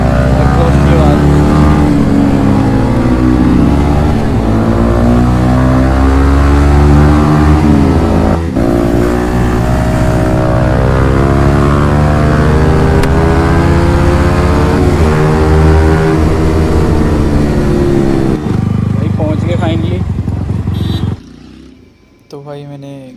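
Modified exhaust on a Yamaha MT-15 motorcycle drones loudly and close, with rising and falling revs sustained for most of the stretch before the engine note drops away near the end.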